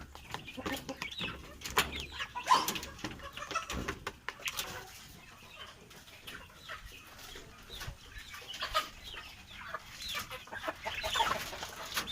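Chickens on a small farm cluck and murmur in irregular bursts throughout, a busy flock close by with occasional sharper calls over a low background.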